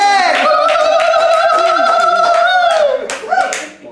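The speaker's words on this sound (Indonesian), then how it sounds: "Tepuk tangan buat Bang Roni" Hosts of a casual podcast clap for their guest, Bang Roni. Close, quick hand claps run under a loud, drawn-out vocal whoop or laugh, then taper off with more voices at the end.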